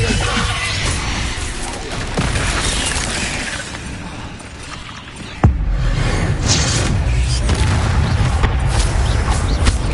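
Incendio fire spell cast in the Hogwarts Legacy video game: a sudden sharp crash near the middle, followed by a sustained loud roaring, crackling burst of flame over a dense, busy game soundscape.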